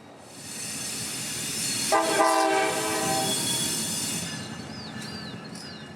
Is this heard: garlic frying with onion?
no